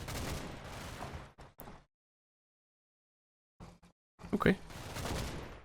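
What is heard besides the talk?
MG42 and Bren carrier gunfire in video game Combat Mission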